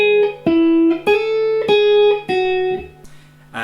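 Electric guitar part, a rhythmic run of plucked notes and ringing double-stops with crisp attacks, close and solo, fading at the end.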